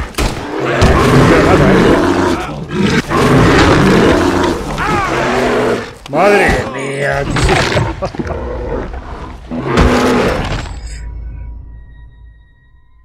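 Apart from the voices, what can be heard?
bear roaring in the video game Red Dead Redemption 2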